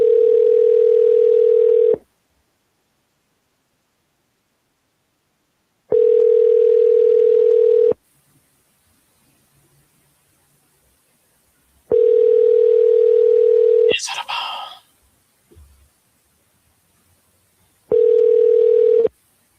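An outgoing telephone call rings out with four evenly spaced ringback tones, each about two seconds long and separated by silent gaps. A brief burst of noise follows the third ring.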